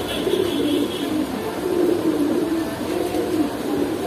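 Pigeons coo in soft, repeated rolling calls at a pigeon shop in Kaptan Bazar, a steady low murmur of several birds heard close by without talk.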